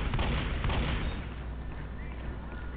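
Dense rapid gunfire in the zombie shooter game Left 4 Dead, a continuous loud barrage of shots and bursts filling the scene with no pauses, close and heavy throughout.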